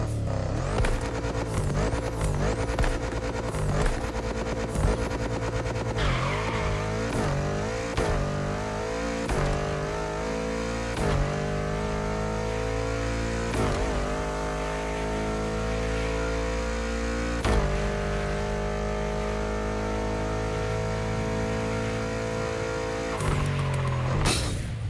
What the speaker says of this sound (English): The bass engine sound of the Audi RS6 Avant.